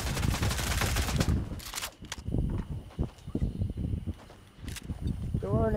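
Rapid SMG gunfire in Fortnite, with bursts of shots and busy game effects alongside, loud and close, mixed with other in-game sounds.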